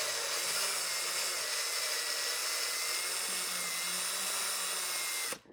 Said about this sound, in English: got my hole drilled and threaded